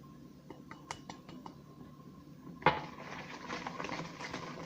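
Cake batter made with lemon juice, water, oil and coconut being stirred in a bowl, with sharp utensil clicks against the bowl early on, then a louder knock followed by steady scraping and swishing mixing sounds, close and without talk.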